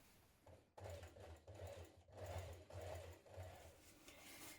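A sewing machine runs in short, rhythmic bursts, stitching a 6mm seam along a trouser waistband, each run a quick mechanical whirr separated by brief pauses, quiet and close.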